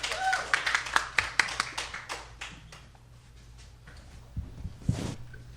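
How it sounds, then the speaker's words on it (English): Applause from an audience at a bookstore author event, a cluster of sharp claps that thins out and fades, with a few scattered claps and some room murmur near the end. "One more big round of applause."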